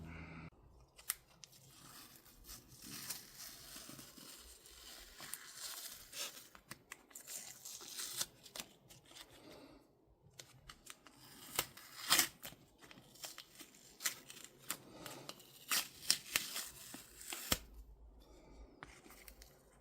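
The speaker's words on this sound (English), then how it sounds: "We'll see what happens when we take the masking tape off." Masking tape peeled off a freshly painted motorcycle part on a BMW K75 cafe racer build, heard as quiet intermittent ripping and crinkling bursts with short pauses, close and fairly faint.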